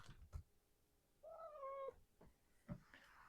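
A house cat meows once, a drawn-out rising and falling call, between a few soft knocks and rustles in a quiet craft room, with no talking.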